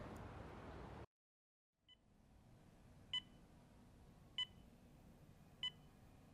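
A phone ringing tone in the video game Lost Judgment: after a sudden cut to silence, three short, even electronic beeps sound at steady intervals over low background hum.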